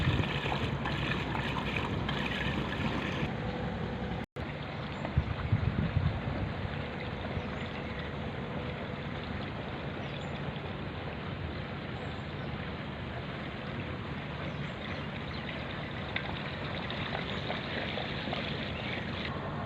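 An engine-driven boat towing a floating house, floating hotel or floating boarding house across water, its motor a steady low drone mixed with wind noise on the microphone and a brief break partway through.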